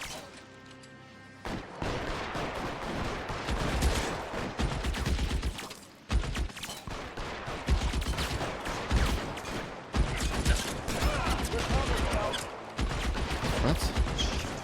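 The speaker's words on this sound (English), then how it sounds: "They're just shooting?" Bursts of gunfire in a 1940s crime game, LA Noire, with repeated loud volleys and crackling shots firing in clusters across the scene, dense and close with brief pauses between flurries.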